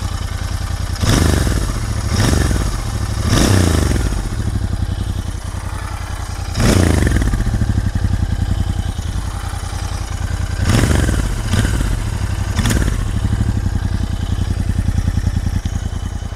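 A Royal Enfield Interceptor 650 motorcycle engine idles steadily and is blipped into several sharp revs, about seven bursts in uneven spacing, loud and close.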